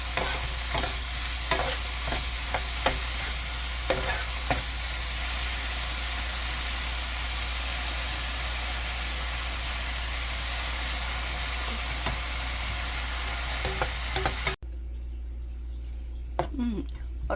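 Beef stir-fry, with the meat's blood not drained, bubbles and sizzles hard over high heat as its juices cook down, with scattered utensil clicks and stirring, before the noise drops sharply to a quiet hiss near the end.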